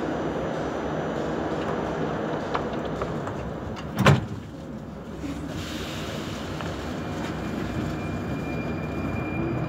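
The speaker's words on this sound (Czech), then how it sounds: "Ukončete prosím výstup a nástup, dveře se zavírají" An 81-71M metro train runs with a steady low rumble, and a single sharp thud from its doors closing stands out near the middle before the rolling noise settles and continues.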